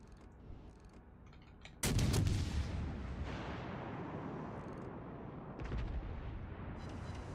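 Warship guns firing in a video game naval battle: a heavy booming salvo bursts out after quiet, then a long rumbling decay with further distant thuds and rolling gunfire behind it.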